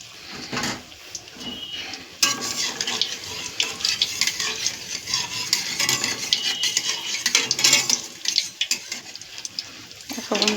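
Beguni, battered vegetable fritters, in hot oil in a home kitchen, with a busy crackling sizzle under clinking utensil and stirring sounds, close and lively throughout, no talking.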